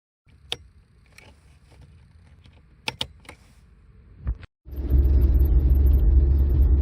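A 1988 Mitsubishi Colt 1500 GLX: a few sharp clicks and rattles in a quiet cabin, a brief pause, then the engine starts and settles into a loud, steady low rumble.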